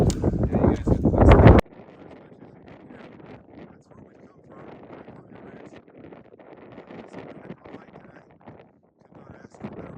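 Wind on the mountain trail near the top of Mount Lafayette rushes loudly against the microphone in a strong opening gust, then eases to a steady, softer buffeting roar that continues throughout.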